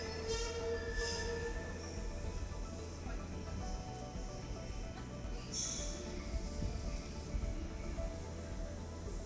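A metro train in Almaty rumbles steadily along the tracks, with a low continuous roar and occasional high squeals from the wheels, fairly close and without speech.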